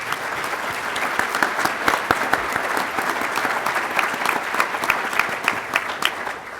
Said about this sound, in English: I'd like you to simply acknowledge them with a round of applause,